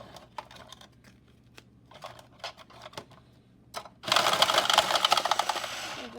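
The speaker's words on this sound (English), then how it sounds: "These cards shuffle way better than the bicycle pink cards." A quiet few clicks and taps, then a loud, rapid riffle of cards fluttering together for about two seconds, close up.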